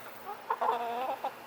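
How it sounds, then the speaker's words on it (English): Backyard chickens cluck close by, a few short rising calls then a longer run of clucks, clear over a quiet outdoor background in summer heat. "Chickens are doing pretty good."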